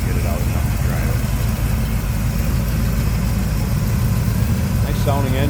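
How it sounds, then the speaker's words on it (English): A 1982 Chevrolet Camaro Z28 engine idling with a steady, deep rumble and low throb, loud and close, running continuously without revving. "Nice sounding engine."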